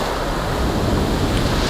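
Storm waves crash and wash over a steep shingle bank at Sandgate Beach during Storm Arwen, a loud continuous roar of surf mixed with heavy wind buffeting the microphone.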